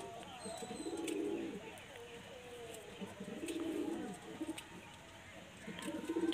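A male pigeon coos close by in three repeated low, rolling phrases with short pauses between them, faint background chirps above.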